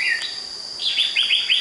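Red-whiskered bulbul chirping in short, bright repeated notes, a quick burst of several clear calls close by with no other sounds.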